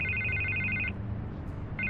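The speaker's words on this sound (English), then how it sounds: "I can't get the phone to stop ringing" In the Batman: The Telltale Series game, a telephone rings with a steady electronic trill that stops, pauses, then starts again, sitting over a low background rumble.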